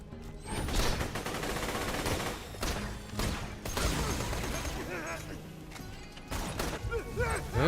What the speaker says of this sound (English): let's switch to my corrosive. Alright, I shoot everywhere but the area that I want to be shooting in